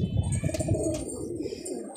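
Pigeons coo in a rooftop loft, a steady throaty rolling coo repeating close by with faint chirps and a brief wing flutter in the background.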